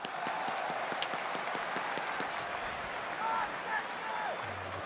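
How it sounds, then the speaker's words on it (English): Crowd at a football stadium during a Manchester City versus Huddersfield FA Cup match applauding a defensive play: steady rhythmic clapping over a broad roar of the crowd, with a commentator talking over it. "Applause for the defensive contribution of Brodie Spencer."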